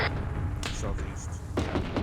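Gunfire rattles in a military shooter game, a few sharp shots crackling at mid distance beneath the steady murmur of voices talking.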